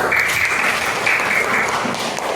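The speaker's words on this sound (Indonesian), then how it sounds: "beri tepuk tangan untuk kelompok 1" Brief, steady applause from a classroom group of teachers cheering the first presenting team, close and fairly loud with no pause.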